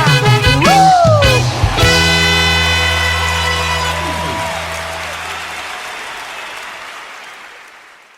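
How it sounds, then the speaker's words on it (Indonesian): A church congregation at a World Revival Center worship service bursts into applause and cheering, with musical tones and a horn-like blast at first, then a long swell of crowd noise that gradually dies away. "Berikan tepuk tangan sorak-sorai bagi Allah kita."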